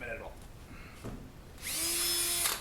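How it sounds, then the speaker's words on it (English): After a few brief sounds, a power drill whirs up and runs steadily at high pitch for about a second, drilling out a part on a turbocharged Honda Acty, before stopping. "I'm going to drill this out"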